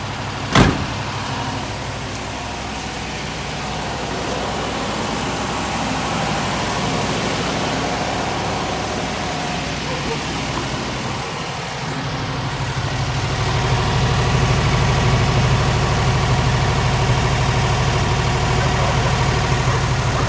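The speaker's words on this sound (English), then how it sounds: "When it's down to an idle, it gets surprisingly quiet." A 1960 Ford F250 brush truck with a 292 Y-block V8 idles steadily at low volume outdoors, a soft even rumble after a single sharp knock at the start, rising slightly toward the end.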